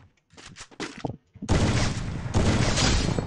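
Gunfire in the shooter game Free Fire: a few scattered shots first, then loud, dense bursts of rapid fire that continue close and heavy to the end.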